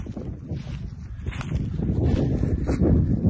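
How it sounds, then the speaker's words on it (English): Wind blows across a farm on a cold day, buffeting the microphone with a low, rumbling rush that grows stronger toward the end. "The wind's blowing."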